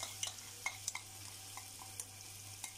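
Spoon stirring and pressing mutton karahi with green chilies and coriander in a pan, soft scraping clinks at irregular intervals over a faint sizzling hiss and low steady hum, quiet and close.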